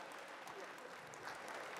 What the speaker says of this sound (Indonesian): Tepuk tangan untuk Bapak Ibu semuanya.